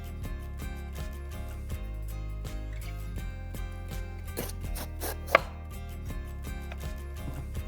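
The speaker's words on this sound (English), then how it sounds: "And you want to cut everything to roughly the same size." A kitchen knife chops vegetables for a stir fry on a cutting board, giving steady, evenly spaced knocks with one sharper clack near the end, close and clear with no talk.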